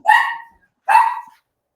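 Two sharp dog barks ring out close by, spaced almost a second apart, sounding as dogs react to a knock on the door in a home.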